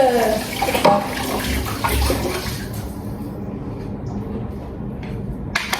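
Running tap water splashes steadily in a home kitchen while a waffle-making utensil is rinsed, a broad close wash that thins slightly toward the end.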